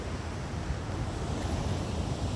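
Sea waves wash against a mangrove shore in a steady, close rush of surf, mixed with wind noise on the microphone.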